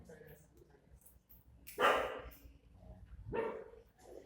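A small dog barks twice in a classroom during a lecture, two sharp close yaps a second and a half apart over faint background chatter.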